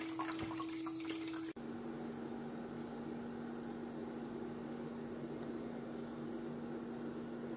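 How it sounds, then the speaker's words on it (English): Water pours steadily inside an Aicok stainless steel ice maker, a constant close trickle over a low motor hum, opening with a brief click. "it looks like the water is pouring on that side."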